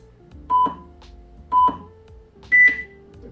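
An alert chime sounds three times at even intervals, about a second apart, when the timer ends on a MAXHUB V6 interactive display. Each one is a clear, fairly loud electronic beep, and the last has a higher pitch.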